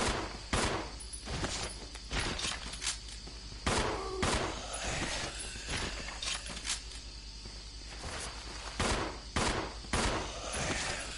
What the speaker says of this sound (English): Just plain old zombies that Rebecca can shoot with a handgun.